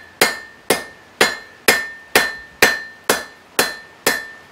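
A hammer strikes hot steel on an anvil nine times at a steady, even pace, drawing out the stem of a forged leaf hook. Each blow gives a sharp metallic clang with a brief ring.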